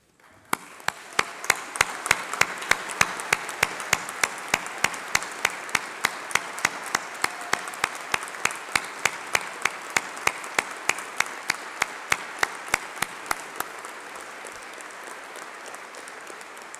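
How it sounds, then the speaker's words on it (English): A university graduation ceremony crowd claps in a steady, rhythmic unison beat, moderately loud and sustained, fading out toward the end. "please stand up while we give you a round of applause"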